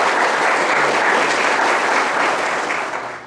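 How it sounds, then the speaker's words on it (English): An audience gives steady, loud applause after a university colleague is introduced, a dense wash of clapping that holds and then starts to fade near the end. "Are you guys clapping for me or for Dale?"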